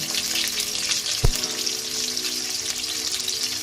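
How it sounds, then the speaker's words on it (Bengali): Potato pieces frying in hot mustard oil in a kadai give a dense, continuous sizzling hiss, close and steady, with one brief low thump partway through. "তেলটা গরম হয়ে গেছে, আমি আলুগুলো ভাজা করে নেব।"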